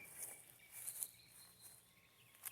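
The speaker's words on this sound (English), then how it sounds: "that's got to be those cicadas" Cicadas buzzing in the woods, a high steady insect drone with brief louder swells. Other faint outdoor background noise sits underneath.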